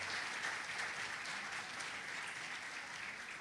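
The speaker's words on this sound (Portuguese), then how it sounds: "aplauda Jesus mesmo" A church congregation applauds during a worship service, a steady, soft wash of many hands clapping heard from some distance and sustained without pause.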